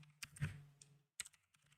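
Keys clack on a computer keyboard in a few close, uneven taps and a short burst, quiet and separated by brief pauses, with no talk.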